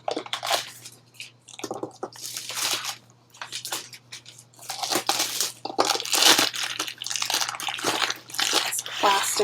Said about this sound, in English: So I'm going to just cut through that plastic in one spot.